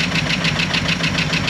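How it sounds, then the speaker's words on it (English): A 1961 Ford Galaxie 390 V8 idles steadily after sitting for decades, a loud, even, close-up rumble with a rhythmic pulsing beat and no talking over it. "This thing's flipping idling."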